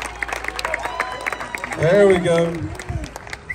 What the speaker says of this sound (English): Y'all better clap for these kids.